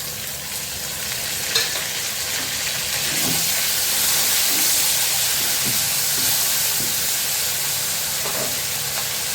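Ginger-garlic paste sizzles and fries in oil in a covered pan, a continuous loud hiss with occasional soft stirring clinks and spatters, no voices over it.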